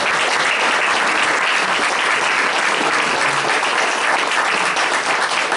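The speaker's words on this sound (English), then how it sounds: "Let's give her another round of applause." Loud, sustained applause from a large audience, steady clapping filling the whole stretch without letting up.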